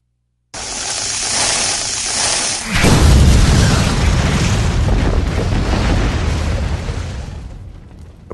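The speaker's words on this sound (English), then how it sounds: "Like a nuclear explosion just happened over there." A simulated blast like a nuclear explosion over in the distance: a loud hiss, then a deep booming roar that swells and rumbles for several seconds before fading, with no talk.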